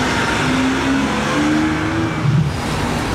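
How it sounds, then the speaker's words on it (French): Engine of an Aston Martin Vantage V8 sports car, the last V8 Vantage, a steady loud rumble with a rising rev note, heard continuously through the whole stretch. "C'est la dernière Vantage en V8."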